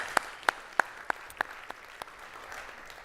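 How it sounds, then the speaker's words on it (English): Conference audience applauding during a day-one opening session, a brief loud burst of claps that thins quickly into a few scattered claps, with no voices over it. "giving our hosts Romilly and Ken and their teams a big round of happy birthday applause"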